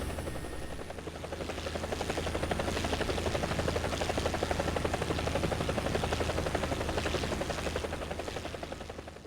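A Huey Cobra attack helicopter flies in War Thunder, its rotor chopping steadily and continuously with a faint buzz, swelling gradually louder toward the middle and then easing off, with no talking.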